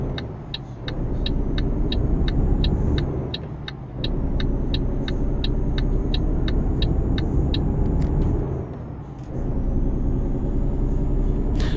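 A heavy Volvo VNL300 truck engine hauling a tanker in American Truck Simulator rumbles loud and close, surging and dipping as it shifts, with a rapid ticking clatter running over the drone.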